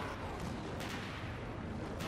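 Massive cannon firing in the space shooter Dead Star, a continuous roaring blast of heavy artillery-like rumble that fills the whole stretch, loud and dense, with no talk.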